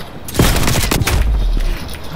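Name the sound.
Semtex grenade explosion from video game Call of Duty Cold War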